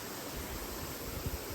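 Small waterfall splashing at the base of a shrine in Hatsukaichi, Japan, a steady, close broadband rush of falling water that holds even throughout with no voices.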